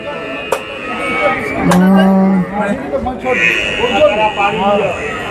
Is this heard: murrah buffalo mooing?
yes